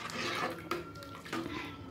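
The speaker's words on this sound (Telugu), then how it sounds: "నీళ్ళు నేను వేస్తా" Water pours into a cooking pot for Telangana pappucharu lentil soup, a close, steady splashing gush with brief clinks of the pot, quiet and without speech.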